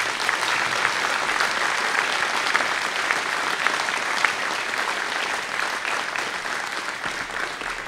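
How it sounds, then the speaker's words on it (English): An audience at an air cadets ceremony applauds steadily, a dense wash of clapping that holds at an even level throughout. "I'd like you to please give these guys and girls a round of applause."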